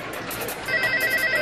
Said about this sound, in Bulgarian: Кой звъни пак, бе?